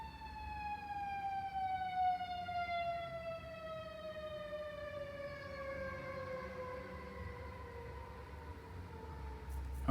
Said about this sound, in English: wow, there's so many sirens today.